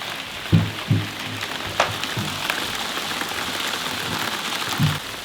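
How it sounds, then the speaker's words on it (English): Hail strikes a suspended sphere cabin, heard from inside as a steady patter with several sharper, louder impacts against the shell. "Look at the hail."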